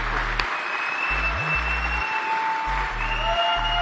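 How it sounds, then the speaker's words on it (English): A political rally crowd in Wisconsin applauds steadily as a dense, continuous wash of clapping, with a voice speaking briefly over it at intervals. "Let's give him a round of applause"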